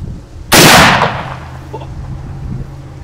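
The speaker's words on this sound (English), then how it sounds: "That is what happens when a rifle bullet hits a rock in the dark." A single loud rifle shot cracks out in the dark, with the bullet striking rocks, followed by a brief decaying echo and a quiet outdoor background.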